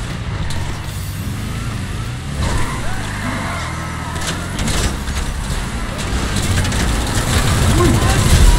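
A car blows up from a missile strike in GTA V, a dull rumbling blast with crunching debris under continuous engine and traffic noise while people talk over it.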